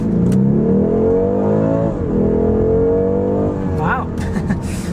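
A 2024 BMW 230i xDrive accelerates hard in Sport Plus mode on a back road, its engine note climbing loud and close through the gears, followed by a brief blow-off whoosh, with someone talking over it.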